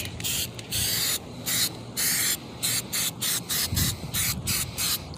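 An aerosol spray can blasts onto a stock car wheel in repeated loud, close hissing bursts of varying length, separated by short gaps, with no talking.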